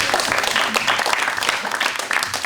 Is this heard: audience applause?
yes